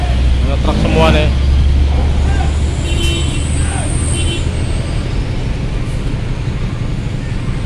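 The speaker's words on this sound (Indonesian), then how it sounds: "Truk semua nih." Traffic noise fills a crowded ferry port dock full of trucks during a holiday return rush, with low engine rumble and passing vehicles under a loud nearby voice talking at the start.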